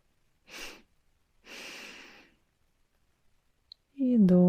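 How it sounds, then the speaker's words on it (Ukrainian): Two separate short sniffs in through the nose, each a soft, close breathy rush, from a guided relaxation breathing routine; a voice begins speaking right after them. "Дві порції повітря через ніс, вдих."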